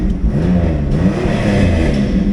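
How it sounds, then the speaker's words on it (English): A 2001 Pontiac Firebird's 3.8L V6 revs loudly and close up, a steady rising and falling engine roar with some mechanical clatter and no talking. "V6 Camaros and Firebirds revving up."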